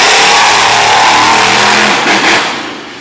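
A big monster truck engine roars loudly at high revs, a thick sustained growl that eases off slightly at the end.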